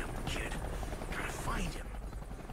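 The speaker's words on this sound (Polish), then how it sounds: "O Boże, helikopter, zaraz mnie namierzą." A helicopter in the video game Deadlight drones with a dense, steady rotor rumble and whine, loud and continuous, while someone talks over it.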